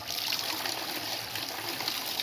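Water rushing steadily through a filter during a backwash rinse with the valve fully open, a continuous close hiss and trickle with no pauses.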